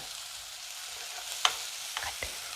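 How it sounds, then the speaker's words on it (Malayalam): Chopped onions softening in a pan for paneer bhurji, a soft steady sizzle with a few light scrapes and taps of a spoon near the end, no voices. "ഇത് നന്നായിട്ടൊന്ന് വഴന്ന് വരട്ടെ കേട്ടോ"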